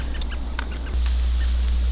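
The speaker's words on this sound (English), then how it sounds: "Oh, birds." Bird calls ring out in a swamp at night, several short cluck-like notes in quick succession, clear and moderately close over a steady low hum.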